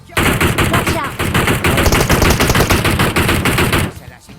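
Rapid automatic gunfire in PUBG Mobile, a loud, close, sustained burst of shots in a steady rhythm lasting about four seconds before cutting off.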